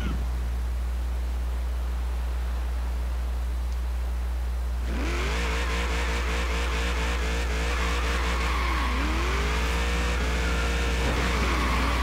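Turbocharged car engine in the Forza racing game revs up hard and climbs through repeated rising gear sweeps, loud and continuous with a tire squeal near the end, over a steady low drone.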